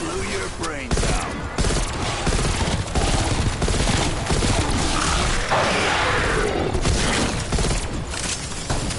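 Rapid rifle fire from an M16 in Call of Duty: Black Ops Cold War zombies mode, dense bursts of shots and crashing impacts running steadily through the whole stretch, loud and close.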